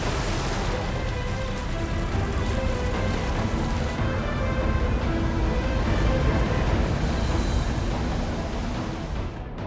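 Heavy hurricane rain pours down in a dense, unbroken roar, loud and constant for several seconds with no voices.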